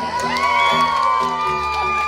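At a clan family reunion, a crowd lets out loud, sustained shouts and whoops, with some scattered clapping underneath, rising in a burst and then easing off.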